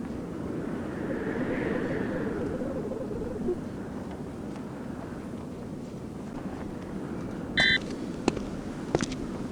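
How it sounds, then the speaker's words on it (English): A single short electronic beep sounds once from The Journeyman Project 2 video game, over a steady low ambient hum, followed by a couple of faint clicks. "What was the beep for?"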